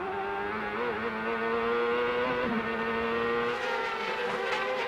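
A Honda turbocharged 2.65-liter V8 race car at the 1998 CART race in Cleveland, its engine droning loud and steady with the pitch climbing and dipping as it works up through the gears, no talk over it.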